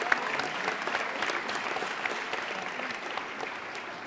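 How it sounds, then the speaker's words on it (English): A school gym audience at a high school athletic sports assembly claps for graduating senior athletes, a steady, moderately distant wash of many hands with a few sharper claps standing out, no speech over it. "So a big round of applause for them"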